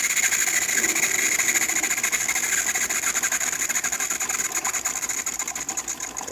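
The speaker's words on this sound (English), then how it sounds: "then we're going to hit the hot water tap" DeLonghi Magnifica espresso machine pump buzzing steadily as water runs through the hot water tap, a constant close mechanical hum with a faint rattle throughout.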